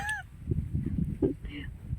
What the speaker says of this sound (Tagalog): Ang mga ibon nandiyan na.